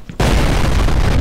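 A grenade goes off in the shooter game FEAR, a sudden loud blast after a brief quiet moment, followed by a dense, sustained roar of debris and rumble that fills the rest of the moment.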